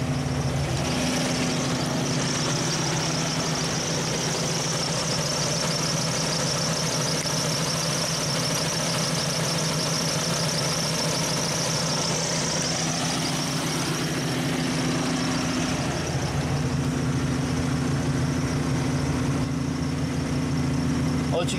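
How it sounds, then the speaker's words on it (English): A vehicle engine idles steadily at about 1600 RPM on a hand throttle with an onboard air compressor, a continuous close drone with a faint high whine on top that holds throughout. "So I pull my hand throttle and my RPMs are sitting at about 1600 RPMs or so"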